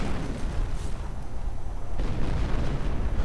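Heavy artillery barrages and high-explosive blasts rumble through a real-time strategy game battle, a dense, continuous low-pitched roar of overlapping booms and bursts that grows stronger partway through.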